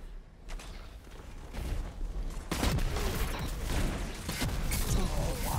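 Grenade launcher fire and explosions in the Destiny shooter game, a busy mix of booming blasts, mechanical clanks and rattling gunfire, louder in the second half, with no speech.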